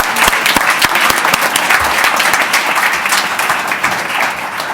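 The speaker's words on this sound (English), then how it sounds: "Another big round of applause for all of our outstanding winners and our outstanding employees" An audience at an economic development committee meeting gives a loud, sustained round of applause for award winners and outstanding employees, dense clapping filling the room for a few seconds.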